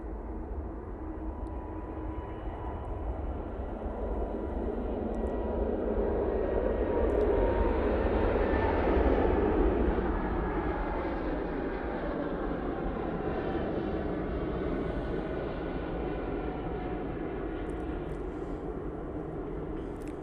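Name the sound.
Lufthansa Airbus A320neo jet taking off to Munich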